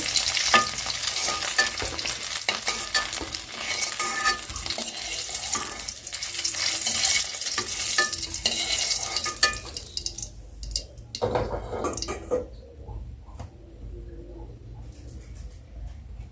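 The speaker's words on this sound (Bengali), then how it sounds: "তো যে ডিমটা কিন্তু বেশ লাল লাল করে ভেজে ফেলছি" An egg fries to a deep brown in hot oil, giving a steady close sizzle with stirring scrapes that thins to a quieter, sparser crackle toward the end.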